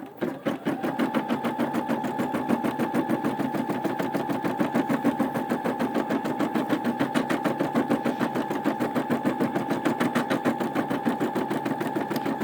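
A Brother SE600 embroidery machine stitches out a quilt block, its needle hammering in a fast, steady rhythm with a constant motor hum, close and loud throughout with no talking.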